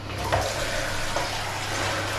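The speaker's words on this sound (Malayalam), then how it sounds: "ഒരു കപ്പ് വെള്ളം ഒഴിച്ച് നോക്കാം." A cup of water is poured into a newly fitted toilet syphon during a home plumbing repair, giving a loud, steady gushing flow with a low hum beneath and no talk.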